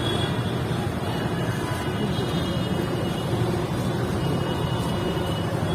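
Street traffic noise in a jam at a signal, heard from inside a rickshaw on a rainy day, a steady low rumble of engines with faint distant honks, continuous and moderately quiet.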